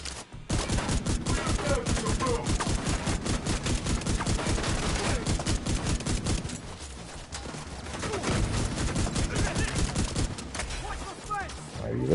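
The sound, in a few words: gunfire in video game The Division 2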